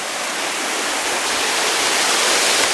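Rushing water from a small stream near a waterfall, a steady broadband roar that holds loud and unbroken throughout, with no voices over it.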